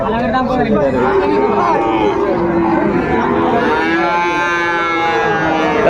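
Cattle moo at a Dinajpur cattle market where Sahiwal bull calves are bought and sold, with a long, loud, close lowing call rising over nearby crowd chatter and talk.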